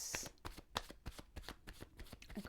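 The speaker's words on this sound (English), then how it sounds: "I'm going to shuffle" Tarot cards being shuffled close up, a run of quick papery riffles and soft slaps in an irregular rhythm, with no talking.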